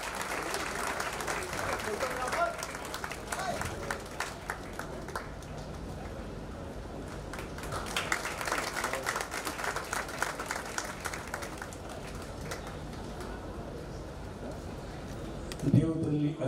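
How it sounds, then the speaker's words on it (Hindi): Audience applause at a ceremony, moderate steady clapping from a crowd heard somewhat distant through a live-stream mix, continuing throughout with brief louder bursts and a knock near the end. "आप सम्मान करिए तालियां बजा करके। तालियां गूंजती रहती है आगे।"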